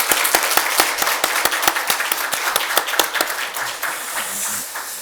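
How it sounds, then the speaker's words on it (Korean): A church congregation claps together to welcome a visiting missionary, a fast, fairly steady burst of applause close by that thins toward the end. "박수로 환영하겠습니다"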